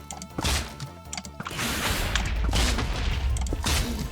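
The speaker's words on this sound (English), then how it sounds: "So we're just gonna shoot him." Rapid video game gunfire aimed at an enemy, dense loud bursts of shots over a rumbling game soundscape.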